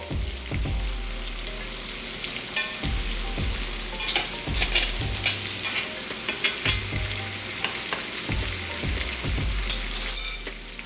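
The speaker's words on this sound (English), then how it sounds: "We're going to cook the shrimp 1 minute per side." Shrimp frying in a pan with minced garlic gives a steady, close sizzle, broken by repeated scraping stirs and light clicks of a utensil, with no voices.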